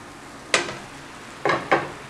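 A spoon scrapes and stirs a mixture of egg, okra and grated coconut in a pan, three sharp clattering strokes against the metal over a faint background, close and alone.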